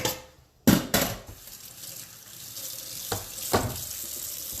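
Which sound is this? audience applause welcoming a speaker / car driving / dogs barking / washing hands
washing hands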